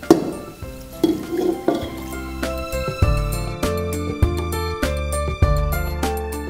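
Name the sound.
stirring grated carrot with milk in a pan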